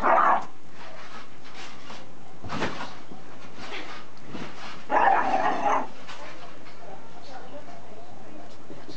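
A Tibetan Spaniel and a Yorkshire Terrier bark while playing: a sharp bark at the start, a louder burst of barking near the middle, and softer yips and scuffles between, with a person talking quietly at times.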